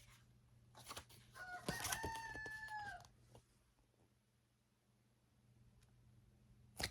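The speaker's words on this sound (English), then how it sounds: "my rooster's outside" A backyard rooster crows outdoors at moderate distance, one drawn-out call of rising then sustained tones near the middle, with faint rustling and background hum around it and no talk.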